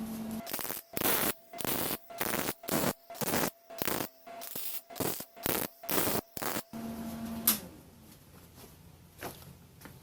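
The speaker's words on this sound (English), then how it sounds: "Now I'm going to tack weld it in place." Tack welds fix a Duraflex hood in place on a drift car, about a dozen short buzzing crackles in a steady rhythm under a faint electrical hum, then quiet shop sounds.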